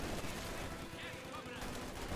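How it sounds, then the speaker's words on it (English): Rifle and machine gun fire from Grenadiers shooting out of windows in a Company of Heroes 2 battle, a dense, continuous crackle of overlapping shots that stays steady and fairly loud throughout. "Grenadiers, they're firing away there from the windows."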